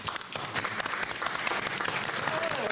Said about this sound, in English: they didn't clap loudly because they're all writing this stuff down